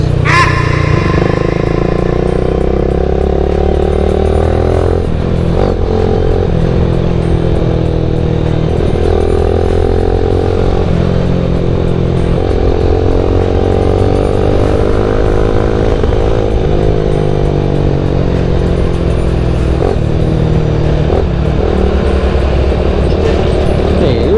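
Yamaha Jupiter MX motorcycle riding through heavy traffic near a truck and a bus, its engine droning loud and close the whole time, the pitch rising and falling as the throttle changes.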